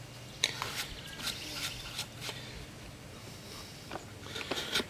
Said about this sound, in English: So I'm just coming through here and cleaning out fine shavings now